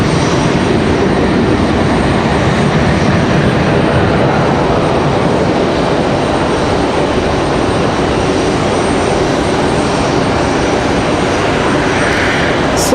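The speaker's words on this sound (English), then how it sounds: "This looks like our new Aeromexico livery." An Aeromexico airliner at Raleigh-Durham International Airport gives off a loud, steady broadband engine roar that holds evenly for the whole stretch, with no voices over it.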